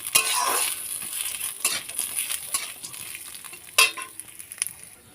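Lentils (dal) and grated coconut being stirred in a pan while cooking for dosa chutney, giving a light sizzle with scattered utensil scrapes and clinks against the pan, close and moderately quiet.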